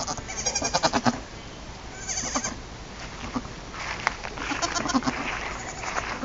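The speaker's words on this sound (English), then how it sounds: "7 baby goats this year." Baby goats bleating in a barn, a run of quick repeated bleats at first, then scattered bleats of varying loudness, fairly close and with no talk.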